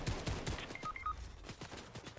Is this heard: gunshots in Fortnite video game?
yes